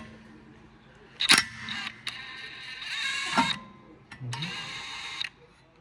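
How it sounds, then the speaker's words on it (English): A T30 six-point bit turns out a screw during a Chevy Cruze rear wheel bearing replacement, giving short mechanical whirring and ratcheting bursts close by, separated by brief pauses. "now to release this screw right here, we're gonna use a T30, 6 points"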